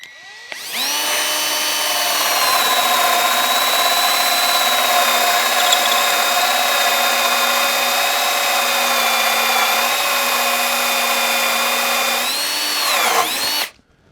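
A power saw bores steadily through wood for a DIY picnic table, its high whine loud and even for about thirteen seconds before spinning down at the end.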